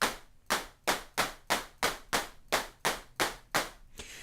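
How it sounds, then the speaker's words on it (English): A synthesized clap from a synthesizer plays eleven times in a steady, evenly spaced pattern of short, sharp, crisp hits, each decaying quickly, close and alone. "It's a fair example of a synthesized clap there"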